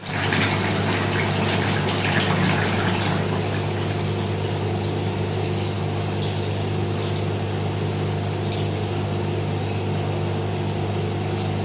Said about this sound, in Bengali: এই জলটাই আমরা এখন তরকারিতে দিয়ে দেবো